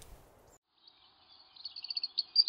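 A European robin, a red-breasted thrush, sings a thin, high warbling phrase of rapid notes that grows louder toward the end, heard alone in a quiet outdoor setting after a brief low rustle.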